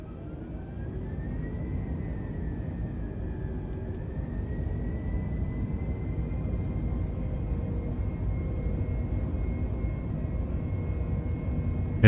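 Airbus A320neo rolling for takeoff from Gibraltar in Microsoft Flight Simulator 2020, a steady engine roar with a rising whine held at constant loudness, no voices over it.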